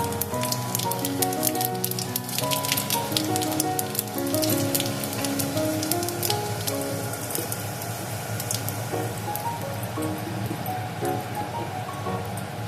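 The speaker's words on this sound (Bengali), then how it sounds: "কড়ার মধ্যে তেল আছে, আমি তেলে ফোড়ন দেব" Whole spices sizzle in hot oil in a wok as five-spice tempering goes in for a Bengali small-fish chorchori, a steady crackling hiss with dense popping bursts throughout, close and fairly loud, with no talking.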